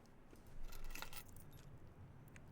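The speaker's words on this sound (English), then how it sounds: "Car keys." Car keys jangle in the video game Blue Prince, a brief bright metallic rattle near the middle, close and clear over a quiet background.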